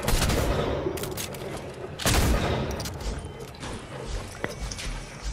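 Gunfire in the Fortnite video game comes as loud, close bursts and scattered shots over a busy background, with one heavy blast in the middle.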